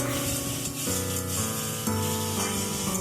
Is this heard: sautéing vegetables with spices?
yes